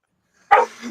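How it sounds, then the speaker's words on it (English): A dog gives one sudden, loud bark that trails into a short excited yelp, close by and alone after a stretch of silence. "The dog's going crazy."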